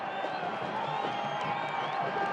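A football stadium crowd at a USL Championship playoff match between Louisville City FC and Charlotte Independence roars steadily near the end of the game, a dense continuous wall of cheering with scattered whistles and shouts.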